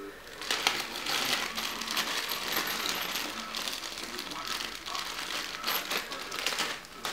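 A bag of metal washers for a homemade go-kart build is opened and handled up close, with continuous jingling metallic clinks mixed with plastic crinkling throughout.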